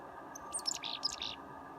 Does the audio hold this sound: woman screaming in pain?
no